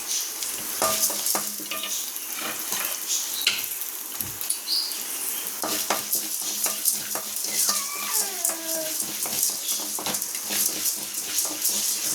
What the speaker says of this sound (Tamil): இதில் உளுந்து போட்டிருக்கோம், கடலைப்பருப்பு, இதை போட்டு நம்ம வறுத்துக்கிறோம்.